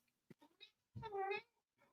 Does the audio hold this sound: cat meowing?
yes